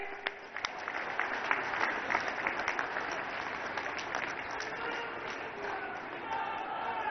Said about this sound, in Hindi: चलो बजाओ ताली